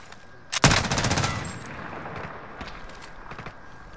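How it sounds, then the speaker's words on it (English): Gunfire in the video game Warzone, a sharp loud shot followed by a short rattling burst of automatic fire that fades into quieter, more distant shots. "They're shooting at me."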